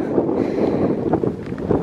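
Wind buffets a microphone outdoors on Aruba, making a steady, loud, rumbling rush that fills the whole stretch with no clear talk.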